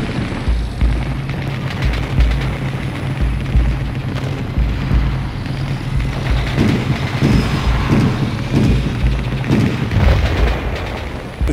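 A continuous series of deep booms and rumbling blasts, heavy and sustained, with low thuds repeating throughout.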